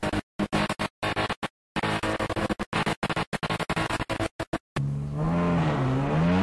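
Touring car race engines roar and rev in rapid choppy bursts on track, then one steady car engine climbs and falls in pitch as it accelerates up close.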